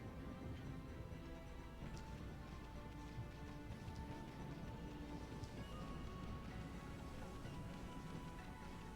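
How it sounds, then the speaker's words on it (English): Rain pours steadily in the video game Okami, a dense even wash of rainfall with low rumbling thunder beneath, fairly quiet and continuous with no speech. "It's not real thunder, buddy."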